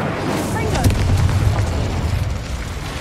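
A Confringo explosion spell cast in the video game Hogwarts Legacy, a loud, sustained booming rumble with crackling bursts that fills the whole moment, close and heavy.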